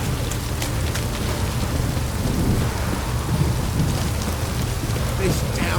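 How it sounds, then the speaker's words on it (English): Heavy, steady rain pours down in The Witcher 3 video game with a constant dense hiss, and a low rumble of thunder rolls underneath throughout. "This downpour's a bastard."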